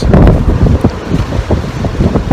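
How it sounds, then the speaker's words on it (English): Strong gusts buffet an outdoor microphone on a very windy day, a loud rough rumbling roar with uneven surges, no voices. "It's really windy"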